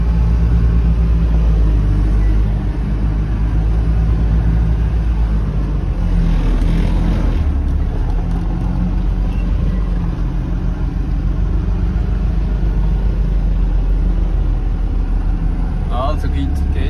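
An off-road motorhome grinding over high Sahara sand dunes in Tunisia with the differential lock engaged, its engine a steady low rumble under continuous cabin noise while people talk.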